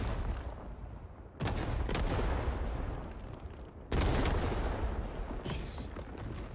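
Gunfire in the Vietnam War shooter Rising Storm 2: Vietnam, with two sudden loud bursts of rapid shooting over a constant battlefield rumble, each burst followed by dense sustained firing.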